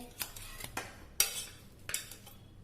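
A spoon scraped around the sides of a cooker pan to loosen kalthappam, giving a few separate metallic clinks and scrapes, close and fairly soft, spaced out over a couple of seconds.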